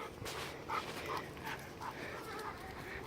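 A pet dog named Keela panting steadily on a rainy day in a park, the breathy pants fairly close and repeating in a loose rhythm over soft outdoor background noise.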